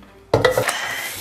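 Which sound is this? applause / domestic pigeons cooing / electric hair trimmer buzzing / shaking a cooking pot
shaking a cooking pot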